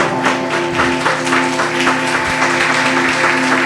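Members of a Christian church congregation clap together during worship, a dense continuous patter of hands over a sustained musical hum, steady throughout.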